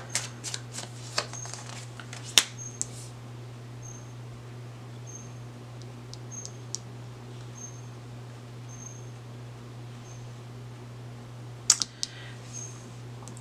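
Tarot cards are shuffled and drawn in a quiet room, with soft papery riffles and sharp snaps near the start and again toward the end over a steady low hum.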